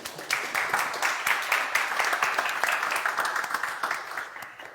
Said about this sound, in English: Should we give them an applause?